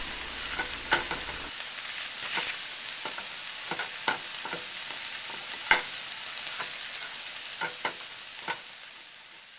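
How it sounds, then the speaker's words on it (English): A wooden spatula chops sausage in a frying pan, making a run of distinct knocks and scrapes, about a dozen irregular taps over a soft steady sizzle, close and fairly quiet, with no one talking. "With the wooden spatula, I cut up the sausage so that I can spread it throughout the omelet."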